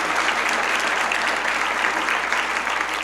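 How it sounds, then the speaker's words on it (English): Audience applause for Nancy at a Vision 2020 event: dense, steady clapping from a crowd that holds full and loud for about three seconds with no voices over it. "So can I have a round of applause for Nancy?"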